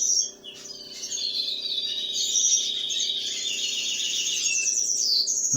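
Young birds in a nest chirp and tweet continuously, a busy high twittering chorus close by over a faint low background hum, with no talking.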